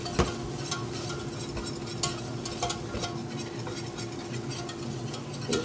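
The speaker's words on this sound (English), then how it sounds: "we're going to be doing 3 tablespoons of the flour, and we're just going to mix that up" Butter and flour being stirred together in a pan to make the roux for a homemade cheese sauce, a steady soft sizzle with light spoon taps and scraping throughout, close and fairly quiet, no talking.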